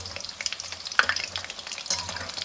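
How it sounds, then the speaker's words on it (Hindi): Chicken pakoras deep-fry in oil over low heat with a close, crackling sizzle that rises in small bubbling bursts, and a couple of sharper pops stand out. "इसलिए आपको हल्की आंच पर ही फ्राई करना है।"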